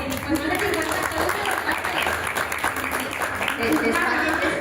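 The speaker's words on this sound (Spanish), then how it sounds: "Esto se merece un aplauso, por favor." An audience claps during a live talk with Spanish dubbing voice actors, continuous applause running underneath people speaking close by.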